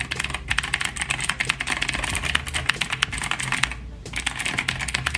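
Fast continuous typing on a mechanical keyboard fitted with upgraded clicky switches, the keys rattling in dense bursts close up with a brief pause near the end and no talk.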